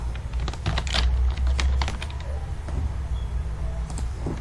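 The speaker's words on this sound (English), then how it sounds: "I'm typing." Steady typing on a computer keyboard while working in Microsoft Word, with quick, close key clicks at an uneven rhythm and no voice.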